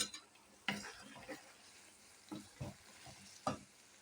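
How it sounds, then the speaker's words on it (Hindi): Zucchini pieces sizzle softly in ghee with chicken in a pan, with a few distinct scraping stirs from a spoon standing out over the quiet frying. "अच्छा सा इनको भून लेती हूँ।"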